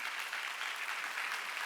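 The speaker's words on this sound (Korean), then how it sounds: "박수 칠려면 치고 말려면 말고." A church congregation applauds during a Sunday worship service, a dense, steady wash of clapping that stays continuous and fairly loud for under two seconds.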